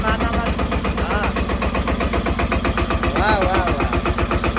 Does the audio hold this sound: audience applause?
no